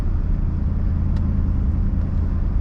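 A four-wheel drive creeps slowly over firm beach sand at low tide on Bribie Island, its engine a steady low rumble held close and even throughout, with no talk.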